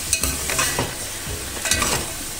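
Mutton being stirred with red chili powder, coriander powder, turmeric and salt in a pan for bhindi gosht, a spoon scraping and clattering in bursts over a steady, loud sizzle.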